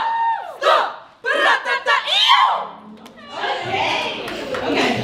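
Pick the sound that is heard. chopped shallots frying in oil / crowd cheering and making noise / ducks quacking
crowd cheering and making noise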